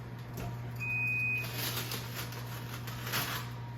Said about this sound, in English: we've had 30 minutes, the timer's going off